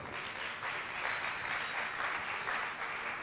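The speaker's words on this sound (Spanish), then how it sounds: "Un aplauso para ellos, por favor." Audience at a live lecture on jealousy applauds in a hall, an even, continuous patter of many hands at moderate volume lasting throughout without a break.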